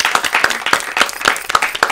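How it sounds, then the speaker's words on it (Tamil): Studio audience applause on a Tamil family game show, a steady patter of many hands clapping throughout, fairly loud and close with no talk over it. "கைத்தட்டுங்க."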